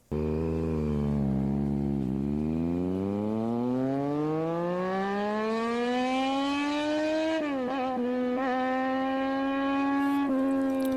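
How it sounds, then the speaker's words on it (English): A three-cylinder motorcycle engine revs steadily upward in pitch, holding a high buzzing whine before dropping and blipping again, loud and close with no talking. "Here is a 3-cylinder motorbike engine. Listen to the note."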